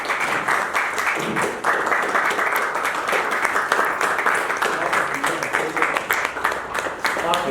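An audience claps steadily for a play at a theatre festival, a dense wash of applause kept up throughout, loud and close, with a voice briefly underneath.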